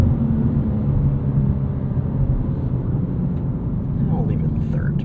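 A 2025 BMW M2 with a 473hp engine and six-speed manual gearbox, cornering on Michelin Pilot Sport 4S tires, gives a steady, loud, low engine drone that holds constant throughout.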